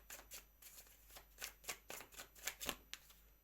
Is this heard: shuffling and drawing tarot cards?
yes